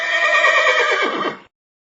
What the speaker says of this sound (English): Here's the horse whinny.